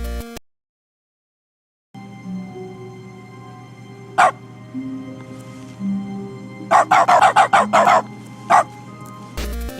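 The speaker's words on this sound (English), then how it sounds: "if you just open up the console and type bark, every time you interact, instead of hearing keyboard sounds," Dog bark effects in the video game The Stanley Parable, a single bark followed after a pause by a quick run of several barks and one more, loud and close over a droning game background.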